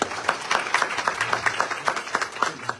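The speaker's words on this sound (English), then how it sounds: "Give him a big round of applause" Scattered clapping from a modest crowd at a Navaratri night at a Hindu temple in Brampton, Ontario, steady and moderately loud, continuing throughout without voices.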